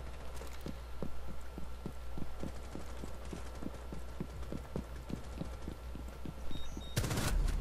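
Gunfire in the shooter game Rainbow Six plays as a steady run of about twenty evenly spaced, fairly faint shots, followed by a brief louder burst near the end, with no talk over it.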